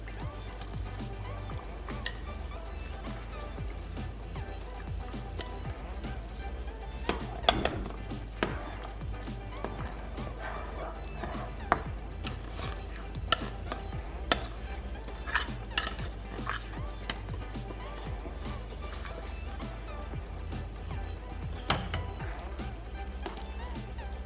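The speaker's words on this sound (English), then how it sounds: "now I'm gonna add my rice" Rice added to a pot for jollof rice and stirred, a continuous stream of scraping, rattling and clinking from the spoon against the pot over a low steady hum, with no speech.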